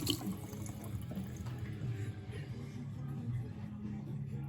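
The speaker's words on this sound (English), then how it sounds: "I'm going to rinse these fingers." Running tap water splashing steadily as fingers are rinsed under it while making bang bang shrimp, a continuous close hiss.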